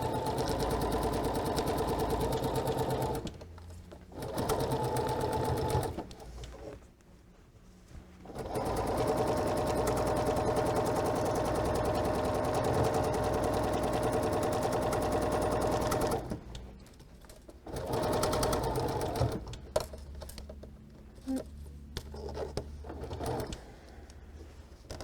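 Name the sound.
sewing machine stitching quilt fabric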